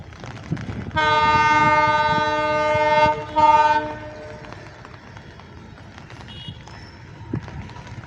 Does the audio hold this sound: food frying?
no